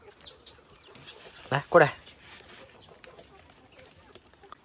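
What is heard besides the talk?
chick clucking in the rain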